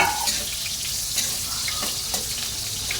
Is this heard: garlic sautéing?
yes